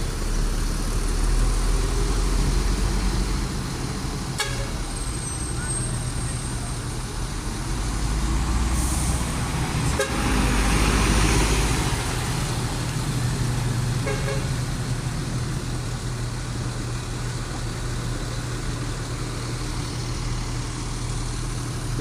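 A Jetbus-bodied intercity bus of the Bintang Utara line arrives in busy traffic at a Pekanbaru–Medan route stop, with a steady engine rumble, passing vehicles and short horn toots sounding over the continuous road noise.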